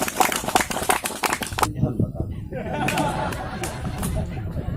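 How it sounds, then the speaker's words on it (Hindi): An audience at a family gathering welcomes a guest with loud, dense clapping that runs under crowd chatter and then settles into a softer wash of applause and hubbub. "जोरदार ताली से स्वागत"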